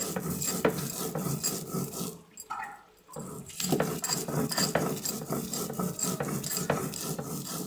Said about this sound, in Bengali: কাঁচা লঙ্কাটা দিয়ে একই সাথে বেটে নেবো এটাকে